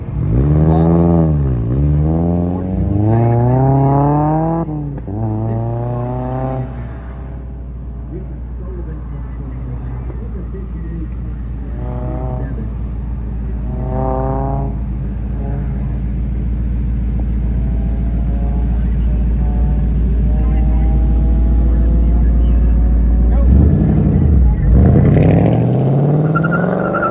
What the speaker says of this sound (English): Got a CA Corvette coming through the final slot.